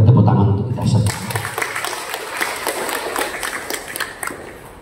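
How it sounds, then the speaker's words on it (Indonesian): Applause breaks out during a Catholic Requiem Mass gathering, a dense crackle of many hands that starts about a second in after a low voice and keeps going steadily to the end. "Kita beri tepuk tangan untuk kita semua."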